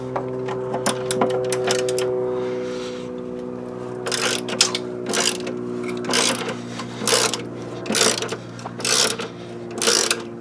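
A ratchet with a 13mm socket on an extension loosening bolts during a front lift install on a 1999-2004 Jeep Grand Cherokee, rapid clicking pawl bursts in repeated strokes over a steady mechanical hum.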